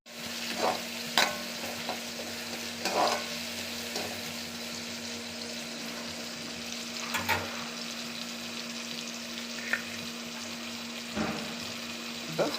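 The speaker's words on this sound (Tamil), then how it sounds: "சின்ன வெங்காயம் நீல வாக்கில் நறுக்கிறது, 2 தக்காளி, 2 மிளகாய் போட்டு நல்லா வதக்கிடணும்" Shallots, tomatoes and chilies sizzle in sesame oil for a fish curry, a steady frying hiss with intermittent scraping stir clatters throughout, no talk.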